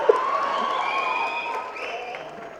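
Crowd at a Tamil film audio launch claps and cheers, moderately loud applause beneath sustained tonal music or whistles that gradually fades toward the end.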